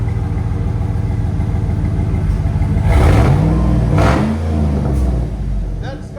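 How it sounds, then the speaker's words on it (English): Deep rumbling exhaust of a 2007 Cadillac Escalade EXT with a 6.2L V8 and Flowmaster Super 10 muffler, idling loud and close, then revving twice with rising and falling roars before settling back down. "EXT Cadillac with Flowmaster Super 10."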